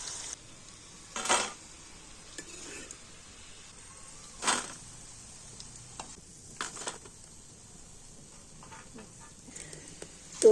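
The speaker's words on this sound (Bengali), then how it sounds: "তো একইভাবে পরের বারের পকোড়াগুলো তেলের মধ্যে আমি দিয়ে দিচ্ছি।" Pakoras dropped into hot oil for a crisp winter-evening snack, frying with a steady close sizzle broken by several brief louder spatters and clinks, no voices.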